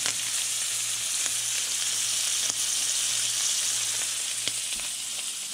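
Bay of Fundy scallops searing in a hot pan, a loud continuous close-up sizzle with a few faint clicks and a low hum underneath, no speech.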